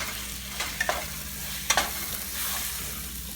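Coarse lentil paste sizzles in hot oil in a pan while a spoon stirs it, a steady close frying hiss punctuated by a few sharp scraping clicks.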